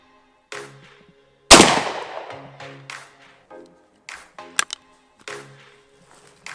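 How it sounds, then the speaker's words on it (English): A .410 shotgun fitted with a Carlson choke fires one sharp, loud blast at a turkey target outdoors, followed by a decaying echo and a few faint scattered knocks and clicks afterward. "I shot this 410 at around 25 yards with the Carlson choke"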